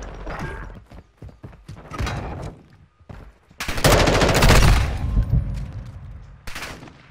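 Gunfire in the video game Call of Duty Modern Warfare 2, scattered sharp shots early on, then a loud sustained burst of automatic fire, with a final short burst near the end.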